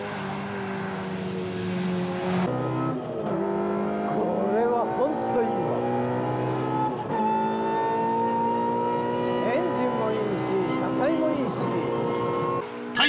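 A Toyota AE86 pulls out of the pit on a race circuit, its engine note rising and shifting through revs up close, with voices talking over the engine.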